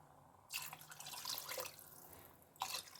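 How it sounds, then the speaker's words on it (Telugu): Water being poured into a pressure cooker for chicken pulao, two quiet splashing pours separated by a short pause, no talking. "ఇప్పుడు నేను 4 గ్లాసెస్ ఆఫ్ వాటర్ కాకుండా 3 గ్లాసెసే పోస్తున్నాను"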